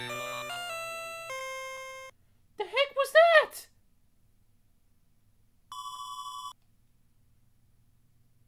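In the Magic Carousel video game, a stepped run of synthesized chime tones gives way to a brief warbling, voice-like burst, then a single steady electronic ring tone sounds alone after a pause.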